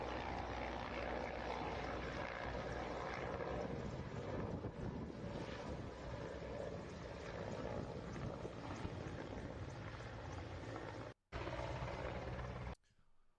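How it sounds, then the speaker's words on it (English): A helicopter arrives at a military aircraft crash scene, its engine and rotors making a loud, steady, broadband roar that holds without a break, drops out for a moment and then cuts off near the end. "There's a chopper arriving on the scene"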